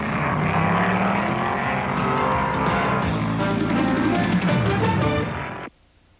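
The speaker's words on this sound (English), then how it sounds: "Shelby's Cobras are still running soundly" Shelby Cobra race cars racing in the 1964 12 Hours of Sebring: loud, roaring engines drone continuously with shifting pitch as cars pass, ending in a sudden cutoff to quiet.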